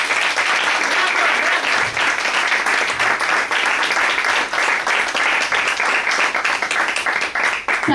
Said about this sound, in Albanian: dua një duartrokitje shumë të fortë